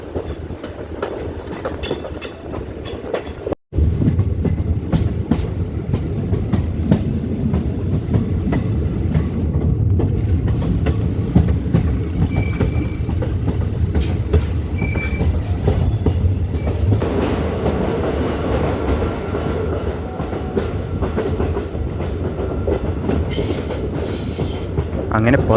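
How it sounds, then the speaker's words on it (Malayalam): A diesel train runs on the Kollam–Aryankavu line past Thenmala near a road, with a steady loud rumble of wheels on rails, sharp squeals and occasional clacks heard close and continuous throughout. "തെന്മല സ്റ്റേഷൻ കഴിഞ്ഞപ്പോൾ പിന്നെ റോഡിൻ്റെ അടുത്തോടൊക്കെയാണ് ട്രെയിൻ പോകുന്നത്."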